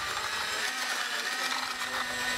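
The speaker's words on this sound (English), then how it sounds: "using the provided mixing paddle and a power drill, thoroughly mix the Helibond grout" Steady whirring motor noise of a power drill spinning a mixing paddle through thick Helibond crack-stitching grout runs continuously and close by with no pauses.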